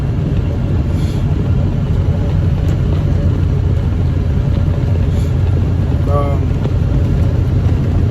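A tri-axle truck rolls through snow-covered New Jersey roads with a steady, loud low engine and road rumble throughout, and a driver's voice talks over it.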